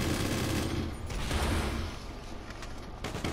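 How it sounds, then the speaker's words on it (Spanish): Rapid automatic gunfire in GTA V Online during a jet-versus-skybase fight, a dense crackling fusillade of shots, moderately loud and continuous, with mechanical clatter and no talk over it. "ahora está disparando"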